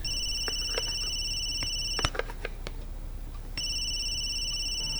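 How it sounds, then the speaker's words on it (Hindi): A telephone rings with a bright electronic warble in two bursts, one at the start and another toward the end, separated by a few clicks and rustles. "देखो जरा किसका फोन आ गया।"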